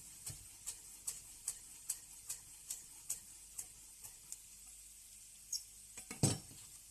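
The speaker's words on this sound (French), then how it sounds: "je vais encore ciseler un petit peu de basilic" Basil being finely cut for a vegetable empanada filling, heard as a steady series of light, crisp ticks and clicks at a regular pace, faint and close, with a couple of louder knocks near the end.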